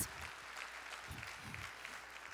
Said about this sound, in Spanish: Vamos, dale un fuerte aplauso